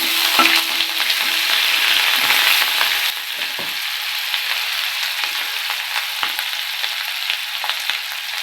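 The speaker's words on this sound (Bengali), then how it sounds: "আদা বাটাটা দিয়ে দিলাম হুম একটু ভাজা হোক" Steady, loud sizzling of ginger paste frying in hot oil in a pan, continuous throughout with faint stirring scrapes, no voices.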